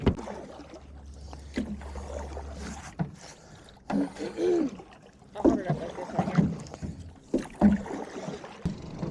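Paddles work a fishing boat back along a river, with soft dips and knocks of the strokes against the hull amid water and wind, while people talk now and then.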